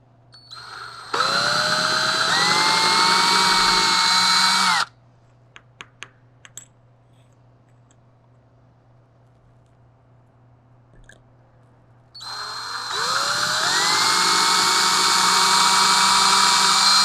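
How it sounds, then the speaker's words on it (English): A power drill bores into a piece of wood set under jewelry work to protect a table, two loud steady whining bursts with rising pitch separated by a quiet pause holding a few small clicks. "I'm going to drill into this piece of wood so that I don't damage my table."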